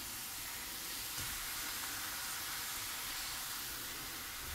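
Ground turkey frying in a hot pan, a continuous broad sizzling hiss that stays steady and close for the whole stretch with no voices.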